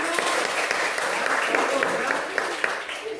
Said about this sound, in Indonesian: Oke, tepuk tangan buat kita.